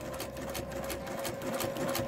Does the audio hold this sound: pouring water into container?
no